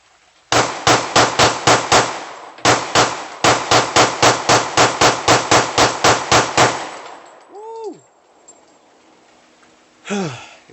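Handgun fired at an outdoor shooting range, two rapid strings of sharp, loud shots, five then about fifteen, followed by a pause and short vocal sounds.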